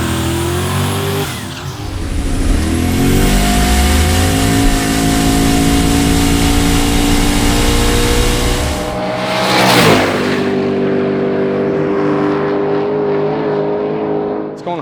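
Loud, close drag car built as a street car, running on E85 and exhausting through its mufflers, revving hard through rising sweeps, easing briefly, then surging again before dropping back to a rumbling idle.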